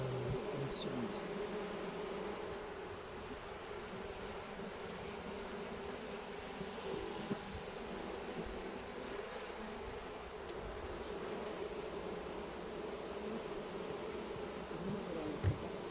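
Honeybees hum in a continuous, dense buzz around an open beehive during a varroa mite inspection, the swarm drone steady and fairly close for the whole stretch with no clear speech.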